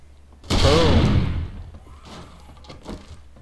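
In 7 Days to Die, a thrown grenade goes off with a sudden loud blast that rumbles and decays over about a second, followed by fainter scattered debris sounds.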